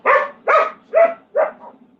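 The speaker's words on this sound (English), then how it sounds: "She likes to bark at her food a little bit before she eats it." A pet dog barks at her food before eating, giving four short, close, evenly spaced barks in about two seconds, with the last one trailing into a softer huff.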